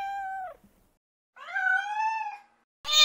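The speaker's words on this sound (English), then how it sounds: "Annoying, noisy cat?" A cat meows twice, a short tonal cry then a longer drawn-out, rising and wavering meow, loud and close with a brief pause between, followed by a sudden burst of noise at the end.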